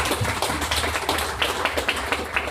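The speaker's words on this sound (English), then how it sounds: "Let's give them a round of applause too." Clapping from a seated audience at a food and tech panel in Austin, a steady patter of many hands throughout, moderately loud and without talking.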